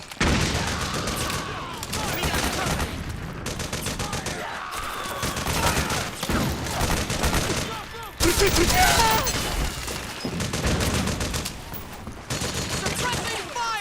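Dense bursts of automatic gunfire and explosions in the video game Metal Gear Solid 4, loud and close, with shouting voices between volleys.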